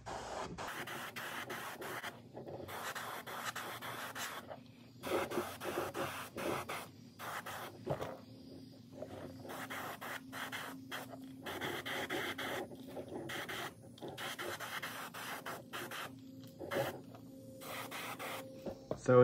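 An airbrush sprays a pearlized silver base coat onto a fishing lure, a close, hissing spray that comes in repeated bursts of varying length with brief silent gaps between them.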